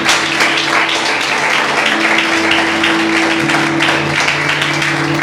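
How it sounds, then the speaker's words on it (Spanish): Congregation in a church applauding together, a steady sustained patter of many clapping hands with a held musical tone beneath, no voices standing out. "Denle un fuerte aplauso al Señor."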